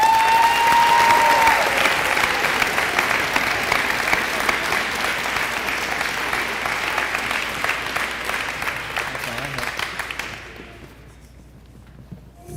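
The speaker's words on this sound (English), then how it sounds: "I know you've been clapping a lot this evening" Sustained applause from an audience at a spring sports awards ceremony, a thick dense patter of many hands clapping that stays strong, slowly thins, then stops abruptly near the end, leaving quiet.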